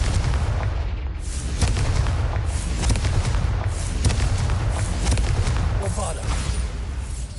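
Repeated booming fire-spell blasts from Confringo being cast in the Hogwarts Legacy video game, loud and dense across the whole stretch, with a voice calling out over the rumbling explosions.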